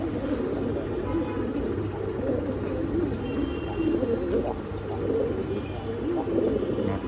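Many breeding pigeons in a loft coo continuously in a dense, overlapping throaty murmur, with the ongoing chorus filling the whole stretch at steady loudness.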